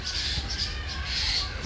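Birds squawk and caw in repeated harsh bursts while a dog attacks a fallen bird, the crow-like cries close and loud over a steady low rumble, with no talk.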